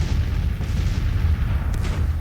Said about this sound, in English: So far it will be an artillery duel.